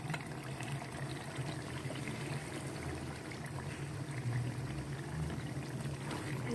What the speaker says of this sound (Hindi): अब मैं इसमें कद्दू शामिल करूंगी।